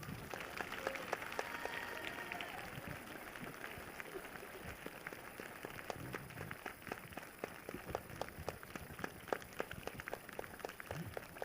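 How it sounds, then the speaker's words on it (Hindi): A church congregation breaks into loud applause during worship, a steady wash of many hands clapping at a distance that continues for several seconds, with a few voices faintly audible beneath. "जोरदार तालियों के साथ।"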